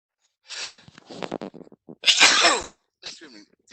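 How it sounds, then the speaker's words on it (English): A person sneezes in a lecture setting: a build-up of short gasping breaths, then one loud explosive sneeze close to the microphone, followed by a faint voiced exhale. "Ooh, try not to sneeze."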